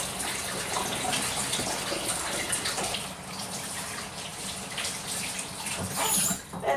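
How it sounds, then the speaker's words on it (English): Hands rinsed under a running kitchen tap during food prep, a steady close hiss and splash of flowing water with shifting spatter as the hands move through the stream, continuous throughout. "I got blood on my hands. So we're going to wash them off."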